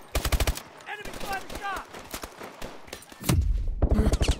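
Rapid bursts of automatic gunfire in Call of Duty: Advanced Warfare break out at the start and again near the end, loud and close. A voice talks in the gap between the bursts.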